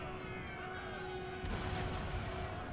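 Faint booms of artillery fire in Napoleon Total War, one muffled blast rising over a steady low battlefield rumble with a quiet tonal hum beneath.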